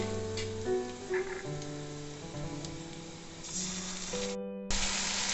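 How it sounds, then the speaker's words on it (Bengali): Grated tomato and ginger hit hot oil with fried soybean and potato, giving a steady loud sizzle and spray that surges sharply near the end, with background music throughout. "এরপর আমি গ্রেট করা টমেটো আর আদা দিয়ে দেব।"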